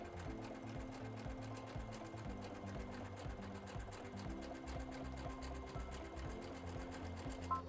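Sewing machine stitching vinyl and fabric together for a tote bag, a steady, fast mechanical whir with rhythmic needle ticking, close and continuous throughout without talk.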